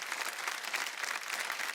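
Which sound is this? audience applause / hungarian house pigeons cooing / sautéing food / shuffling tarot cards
audience applause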